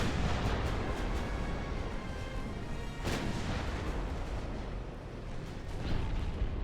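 Heavy battleship gunfire from a naval warfare game, a dense rumbling barrage with a sharp loud blast near the middle and rolling booms continuing throughout.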